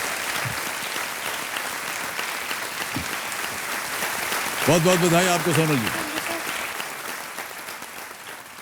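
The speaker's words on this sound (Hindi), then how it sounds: "तालियां बजती रहें इनके लिए।" A studio audience on a television quiz show applauds a contestant taking the hot seat, a continuous roar of clapping throughout while the host speaks over it near the middle.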